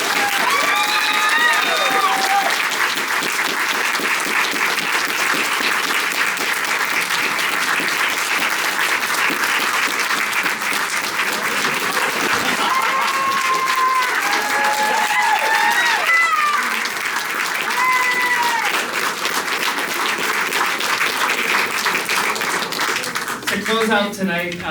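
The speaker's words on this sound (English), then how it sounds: "Can we get one more round of applause for" A long, loud round of applause from a crowd at an evening panel event, a steady dense roar of clapping lasting the whole stretch, with voices calling out briefly over it.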